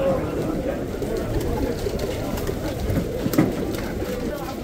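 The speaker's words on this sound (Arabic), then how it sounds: "طيور حلوات مثل ما تشاهدون" Pigeons coo at a bird market in Kadhimiya, Baghdad, soft murmuring calls under close male chatter and general market bustle.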